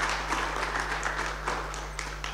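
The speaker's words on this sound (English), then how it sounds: "In the absence of any more questions, let's applaud Ms. Khoza as she descends." An audience applauds steadily, many hands clapping together in a dense patter over a low electrical hum.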